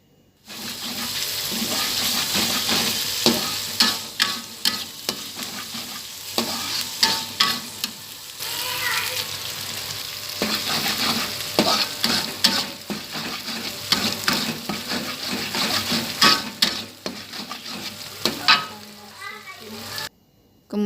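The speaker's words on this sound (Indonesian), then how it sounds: "Kita tumis sampai harum." Ground spice paste sautéing in hot cooking oil for a braised beef tongue stew, a steady crackling sizzle with stirring scrapes running throughout, close and fairly loud, with brief clinks of utensils.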